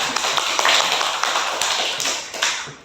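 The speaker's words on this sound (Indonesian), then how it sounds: "Beri aplaus dulu untuk Aika." A classroom applauding a student, dense, loud and continuous clapping from many hands close by, fading slightly at the end.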